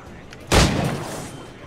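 A single loud gunshot in Assassin's Creed 4: Black Flag bursts out close and sharp, then trails off in a long rumbling decay.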